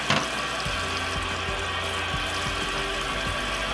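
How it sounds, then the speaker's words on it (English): A grill pan is rinsed under a running tap, a steady close rush of water hissing over the metal with soft periodic knocks and clunks underneath, no talking. "Let me rinse this up and we'll get the main pan. Give it a good rinse."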